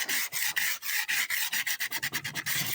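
Abrasive grit rasps back and forth across the flat metal faces of a gun part clamped in a vise, in steady rhythmic strokes that come closer together toward the end, loud and near with no talk.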